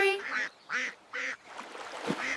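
Several short, nasal duck quacks come in quick separate bursts over a soft background, close and fairly clear, as part of a children's nursery rhyme about colorful ducks.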